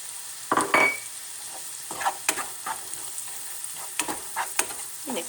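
Garlic and tomatoes sauté in a pan for chicken stuffing, a crackling sizzle broken by repeated scraping stirs of a utensil, fairly close and without speech.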